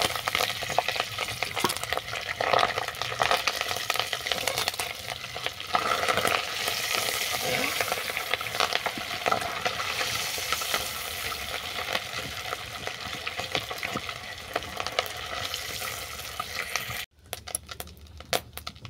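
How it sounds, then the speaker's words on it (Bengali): Loud, continuous crackling and sizzling of fish roe frying in hot oil in a wok, dense with popping bursts, with a few clattering clicks near the end. "তেল পোঁটাগুলো ভাজা হয়ে গেছে, এগুলো কড়া থেকে নামিয়ে নিচ্ছি।"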